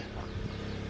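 Chickens cluck in a dense, busy chorus close by, a steady stream of overlapping low clucks with no pauses.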